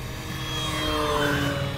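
An Arrows Bigfoot 1300mm radio-controlled airplane at full throttle, a loud steady whine of its electric motor and propeller sweeping slightly in pitch as it passes fairly close, with no talking.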